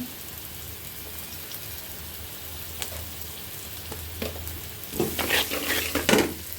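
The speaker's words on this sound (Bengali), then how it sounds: "তেলের মধ্যে কাঁচামরিচ পেঁয়াজ দিয়ে ভেজে করলা দিয়ে সামান্য একটু হলুদ একটু লবণ দিয়ে ভেজে ফেলি" Sliced bitter gourd fries in hot oil with green chillies, onion, turmeric and salt, giving a steady, close sizzle like light rain, with scraping stirs growing louder toward the end.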